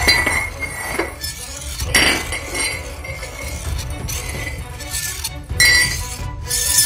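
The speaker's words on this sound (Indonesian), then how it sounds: "seperti suara gelas atau piring yang bergesekan dengan lantai" Glasses or plates scrape and clink against a floor in an echoing room, with repeated rattling, grinding scrapes and bright chinks over a noisy, reverberant background.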